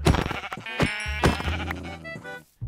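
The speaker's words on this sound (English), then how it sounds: "I also found the last sheep we needed for our bed." A sheep in the video game Minecraft bleats loudly and close up, giving a pair of wavering baa calls in quick succession with no talk over them.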